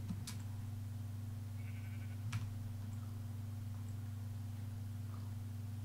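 Minecraft sheep bleat faintly a few times over a steady low background hum, with short sharp clicks scattered between the calls.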